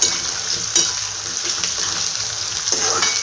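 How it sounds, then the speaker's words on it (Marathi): Green chillies that have turned red fry in hot oil for a vegetable pulao, giving a steady, close, continuous sizzle with a few sharper crackles and spits, with no talking. "आणि तेलामध्ये आपण छान फ्राय करून घेऊया याच्या"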